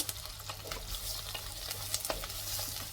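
Small shallots sautéing in a pan for a millet sambar rice, a steady close sizzle with scraping stirs throughout and no talk.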